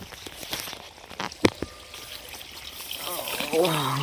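Water from an electric irrigation pump at a paddy field in Mandya trickles and pours in an uneven stream, with scattered splashes and outdoor noise beneath, faint and mid-distance.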